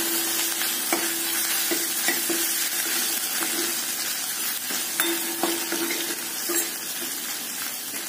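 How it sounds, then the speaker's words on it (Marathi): Crushed ginger, garlic and curry leaves sauté in a hot tempering for tomato rasam, a dense, even sizzle broken by light, irregular taps and scrapes of a spoon against the pan. "फोडणी छान परतून घ्यायचं"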